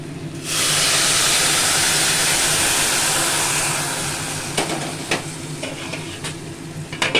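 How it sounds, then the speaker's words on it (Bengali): Hot water hits a pan of vegetable curry with a sudden loud sizzling hiss and steam that gradually settles into a bubbling simmer, with a few clinks of utensils near the end. "আমি গরম জল অ্যাড করে দিচ্ছি।"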